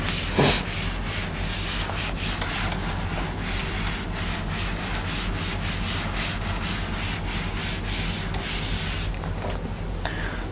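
Steady, continuous rubbing as a teacher erases writing from a board during a physics lecture, a close, scratchy swishing sound that runs throughout with short pauses and no talk.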